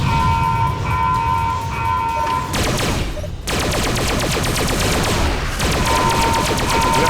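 Rapid space-combat gunfire from Freespace 2 rattles in dense, continuous bursts, loud and close, with brief breaks between volleys and a steady tonal hum running underneath.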